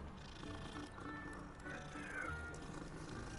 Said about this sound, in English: Kitty, let's go, kitty, kitty.